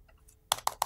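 Keystrokes on a computer keyboard while working in a code editor and browser, three sharp clicks in the second half, quiet and close, with no talking.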